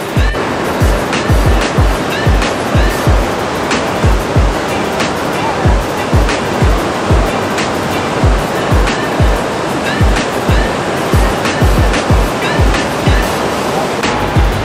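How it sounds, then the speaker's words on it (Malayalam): Water falls and rushes through a rock canyon in Canada as a loud, continuous roar, punctuated by regular low thumps throughout. "ഈ വെള്ളം ഇങ്ങനെ വീണ് വീണേ ആ പാറ ഇങ്ങനെ ഒരു കീറിയിരിക്കുന്നുണ്ടോ"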